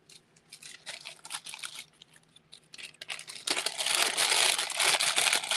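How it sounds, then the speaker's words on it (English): Crinkling of a plastic craft package, close and handled in irregular bursts at first, then swelling into a denser, louder continuous rustle toward the end. "sorry about the crinkling"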